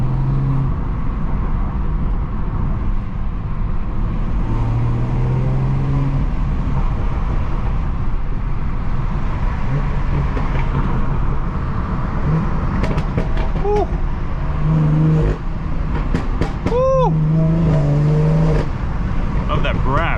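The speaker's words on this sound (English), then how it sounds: "let's get some B58 soundtrack going" A 500 whp B58-engined car cruising and accelerating, its engine holding a steady, close drone from inside the cabin, with rising pulls and brief pops and crackles near the end.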